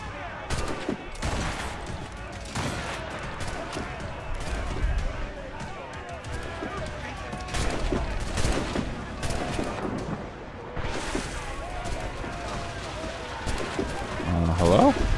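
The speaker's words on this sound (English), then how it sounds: "Cannons are hitting invisible walls." Repeated booming cannon shots in Assassin's Creed: Rogue Remastered, irregular and fairly loud, with bursts of impacts and talk mixed in.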